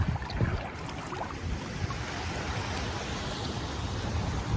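Sea waves wash in at a beach with natural rock pools at Lagoinha do Norte, Florianópolis, a steady broadband surf hiss with some low rumble and wind buffeting the microphone, no voices.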